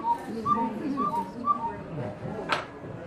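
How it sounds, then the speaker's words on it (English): Small cuckoo clock in a Swiss clockmaking setting giving a series of soft, high two-note cuckoo calls, repeated about four times in a steady rhythm, fairly faint over a quiet room with a brief rustle near the end. "And the smallest clocks will have baby cuckoos."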